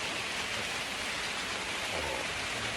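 Steady, hissing rain falls continuously, a dense even wash of drops with no voices.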